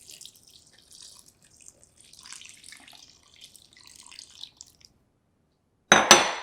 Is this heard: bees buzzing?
no